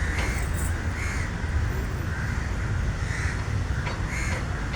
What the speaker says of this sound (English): You know, the crow came in.